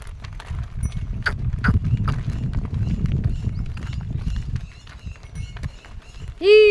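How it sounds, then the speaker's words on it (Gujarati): Many cattle hooves thud and clop on the ground in an uneven, shuffling rhythm close by as the herd heads to water, fading off before a short animal call at the end. "આપણે આગલા ઢોર પૂગી ગયા પાણી પીવા"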